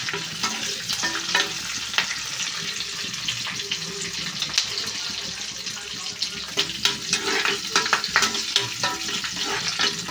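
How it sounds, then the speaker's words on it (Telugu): Tempering spices fry in hot oil in a pan for dal, giving a steady close sizzle with scraping and stirring clatter throughout and no talk. "పోపు అయితే ఫ్రై చేసుకుంటున్నాను"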